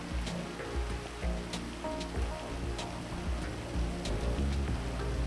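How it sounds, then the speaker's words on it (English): Steady rain in the GTA video game, a continuous dense hiss with scattered drop and splash ticks and a low rumble underneath, even and moderately loud throughout, with no voices. "I was too busy listening to the sound of the rain."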